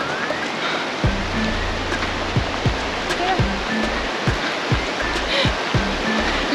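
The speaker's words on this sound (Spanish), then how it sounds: "Un arroyito que corre, es agua mínima" A small, shallow mountain stream in the hills of northern Argentina runs with a steady close rush, and scattered footsteps or knocks sound over the flowing water.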